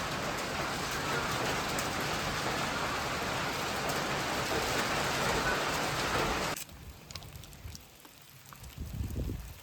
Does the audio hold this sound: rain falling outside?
yes